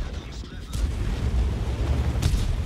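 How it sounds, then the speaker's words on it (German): A Super Conqueror tank cannon fires in World of Tanks, a deep booming shot rolling out under someone talking in German, followed by a second sharper report. "jetzt können wir vielleicht nochmal auf den nächsten hinschießen."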